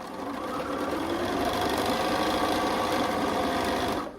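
Sewing machine running steadily while stitching a Stars and Stripes quilt, a continuous close, loud mechanical whir with rapid needle rhythm and no pauses.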